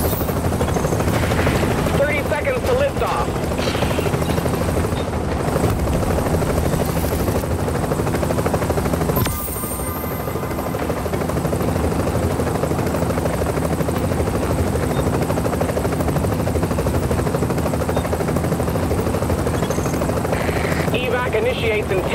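A helicopter in Tom Clancy's The Division video game comes in to land, its steady loud rotor drone filling the scene throughout, with a brief dip midway and game dialogue and effects layered over it.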